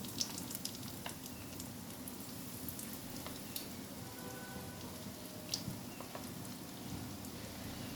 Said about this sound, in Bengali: তেল গরম হয়ে গেছে এবার এক একটা করে ভেজিটেবল চপ আমি ছেড়ে দেব